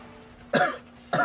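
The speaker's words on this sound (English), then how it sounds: "Again, I'm sorry about the cough." Two short, sharp coughs sound close to the microphone, separated by a brief pause over a faint background hum.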